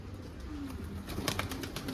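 Pigeons cooing outdoors, soft low coos repeating under faint background noise, with a brief flutter of sound near the end, no voices.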